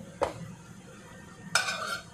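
A ladle scrapes and clinks twice against a cooking pot, one short knock followed by a longer scraping stir, quiet and close with no talking.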